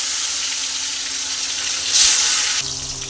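Tomatoes dropped into hot oil already tempered with cinnamon, cardamom and cumin, a loud steady sizzle and hiss of frying that swells suddenly into a sharper burst, then settles back as the pan quiets slightly.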